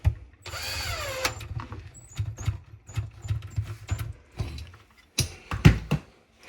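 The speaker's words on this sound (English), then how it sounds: "I just need to put a bunch of screws in" A power drill drives screws into a Samsung DMT800RHS dishwasher during repair, with a rising whine followed by short, repeated whirring bursts and metallic clicks, close up and alone.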